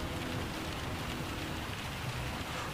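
Steady rain hisses through the Gran Turismo 7 racing game on PS5, a dense, even wash of falling drops at low level with no pauses.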